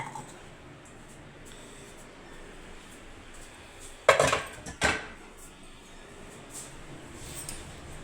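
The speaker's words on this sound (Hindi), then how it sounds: "गिलास डाल दूँगी मैं सिंक में।" A glass set down into a kitchen sink among dishes gives two quick clinking knocks in the middle of a quiet room.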